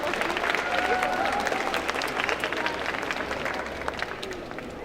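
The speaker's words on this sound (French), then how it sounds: "Je vais les applaudir bien fort." Audience at a cosplay contest gives the event helpers a loud, sustained round of applause, dense clapping and crowd noise holding steady throughout.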